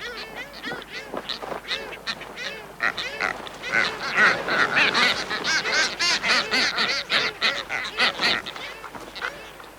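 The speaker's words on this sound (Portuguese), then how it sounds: "uma cria de ganso patola pardo está muito adiantada" Brown booby chick and its mother at the nest, a dense, continuous chorus of harsh honking and squawking calls that swells louder in the middle, close and busy with no voices.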